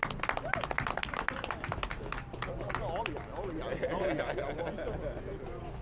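An outdoor crowd claps and cheers for mural artists at a Brooklyn street installation, scattered claps swelling into applause mixed with chatter and voices.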